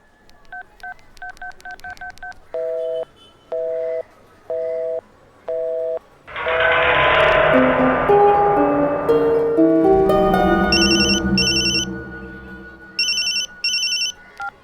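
A telephone keypad plays a quick run of dialing tones, followed by steady beeping tones and then a loud, buzzing ring that repeats in short bursts.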